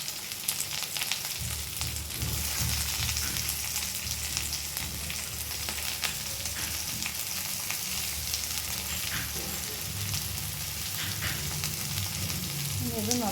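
Onion, curry leaves and green chili fry with ginger-garlic and fennel seeds in a pan for kadala curry: a loud, steady sizzle runs throughout, broken by occasional scraping stirs.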